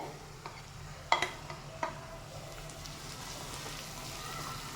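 Cut potatoes and broccoli tipped into a hot frying pan, with a couple of sharp clatters and soft sizzling over a steady low hiss, fairly quiet with no voices.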